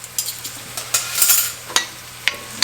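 Chopped yellow onion sizzles in olive oil in a pan, giving a steady frying hiss broken by a few crisp scrapes and taps of a utensil. No voices are heard.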